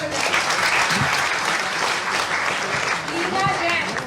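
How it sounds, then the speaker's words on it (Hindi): A crowd at an education event applauds steadily, dense and sustained clapping filling the whole stretch, with no break. "जोरदार तालियां बजाइए।"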